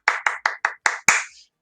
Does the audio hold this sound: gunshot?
no